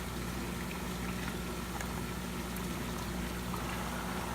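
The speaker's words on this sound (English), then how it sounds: "the water flows right through the limewood" Water flows and bubbles continuously through an aquarium overflow sandbox filter with a Lee's limewood air stone, giving a steady close gurgling and fizzing stream with no pauses and no talk.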